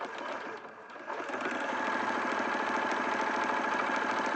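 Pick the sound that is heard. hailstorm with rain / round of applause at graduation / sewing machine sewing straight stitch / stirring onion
sewing machine sewing straight stitch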